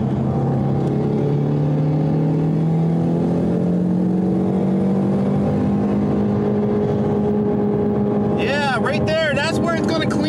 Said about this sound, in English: just keep it at the top RPMs for as long as possible